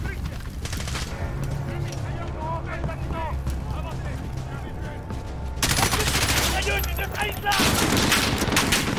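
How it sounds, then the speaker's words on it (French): Bursts of machine gun fire from the Call of Duty Modern Warfare game on PC, loud and dense with heavy rattling volleys that grow more intense toward the end, under someone talking in French. "C'est une mitrailleuse"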